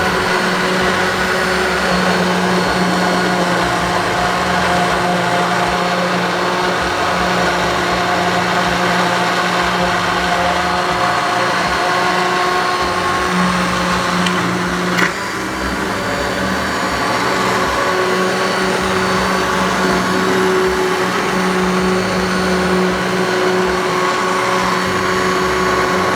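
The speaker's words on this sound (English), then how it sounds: "I have an immersion blender here, so I'm just going to slowly pass through the whole pot until it's all nicely blended together" An immersion blender purées lentil soup in a pot for Levantine shorabet adas, a loud, steady motorized whir running unbroken throughout with a brief shift in pitch midway as it moves through the pot.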